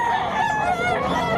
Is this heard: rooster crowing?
yes